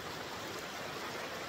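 A clean forest stream flowing in a cool, mossy place, a steady soft wash of running water, faint and unbroken, with no voices.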